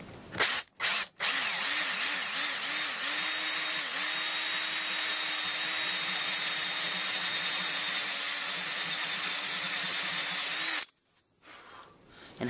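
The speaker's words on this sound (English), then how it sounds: "I'm going to move it up to a step drill bit to drill a larger hole." A power drill with a step drill bit whines steadily as it grinds through a metal coin, with a few brief starts before a long continuous run that cuts off near the end.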